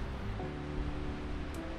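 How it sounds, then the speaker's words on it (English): Powerful waterfall at Salish Lodge in Washington, a steady, dense roar of rushing water and mist crashing onto rocks, loud and unbroken throughout with no voices. "Check out the way the mist is just blasting off the waterfall into the rocks."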